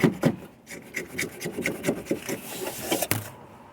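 Rapid, rhythmic scraping and rasping as a zip tie is sawed back and forth inside a clogged Hummer H3 sunroof drain tube, steady and close.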